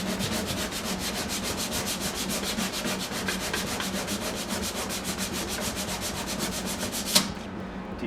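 Paint being sanded off a car body at the spots to be welded for a time attack roll cage, a rapid, evenly pulsing back-and-forth abrasive rasp, close and steady, with a sharp knock near the end as it stops.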